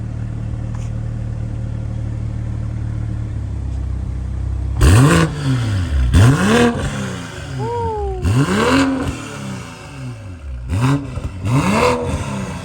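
A BMW M440i B58 engine with a catless downpipe idles with a steady rumble, then revs hard several times with the exhaust valve open, each climbing and falling, loud and close with a raspy exhaust.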